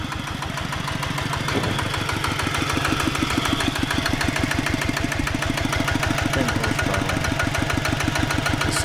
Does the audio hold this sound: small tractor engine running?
yes